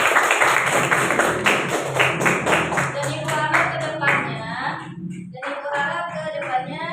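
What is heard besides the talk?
children clapping hands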